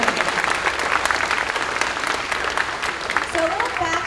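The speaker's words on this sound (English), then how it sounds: "Let's give Caleb another huge round of applause" A chorus concert audience claps steadily throughout, a dense wash of applause for a young performer, with a voice speaking faintly over it near the end.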